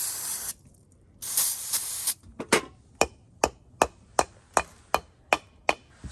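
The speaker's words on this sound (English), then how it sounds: "we're just cleaning off our wire brush here a little bit" A wire brush cleaned off in a workshop: two bursts of harsh spraying hiss, then a steady series of about a dozen sharp, evenly spaced knocks, close and loud.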